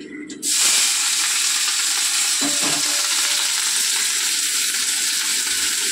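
Hot oil in a home kitchen pan, heated ready for frying chicken, hisses in a loud, steady sizzle that starts abruptly after a brief quieter moment and holds constant, with a couple of faint knocks partway through.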